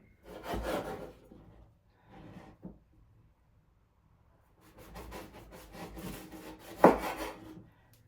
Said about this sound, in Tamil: இது வந்து ஒரு சுண்டலுக்கு வெட்டிட்டு மிச்சத்தை தான் நான் சொதுக்கி வெட்டி எடுக்க போகிறேன்